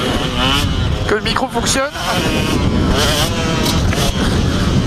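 A KTM 125 motocross bike's engine, running slightly worse than before, drones loudly and steadily close by with brief dips in revs, while a rider talks over it.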